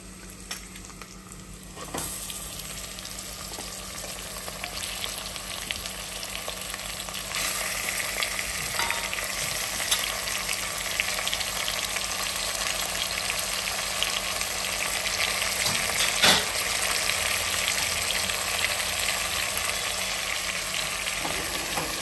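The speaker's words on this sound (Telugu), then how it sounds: "ఇప్పుడు నేను ఇందులోకి ఇది కేజీ మటన్ యాడ్ చేసుకుంటున్నా." A kilo of mutton sizzles steadily in hot oil in a pan, a continuous close frying hiss that grows slightly louder after a brief quieter start, with an occasional clatter of stirring.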